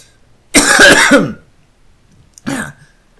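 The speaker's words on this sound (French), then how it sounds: "je vais peut-être un peu tousser pendant la vidéo" Two harsh throat-clearing coughs, a longer rough burst followed by a shorter one after a pause, close and loud in an otherwise quiet room.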